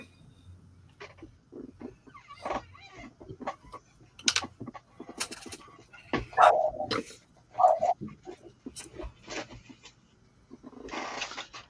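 A dog barks in several short bursts mixed with clucking chickens, moderately close in an otherwise quiet outdoor setting, with sharp yelps clustered around the middle and a brief scuffle near the end.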